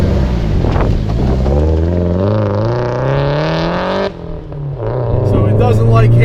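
A modified Nissan S13 240SX with an SR20 engine swap revs up loudly from inside the cabin, pitch climbing steadily through a gear before a brief shift dip and renewed acceleration.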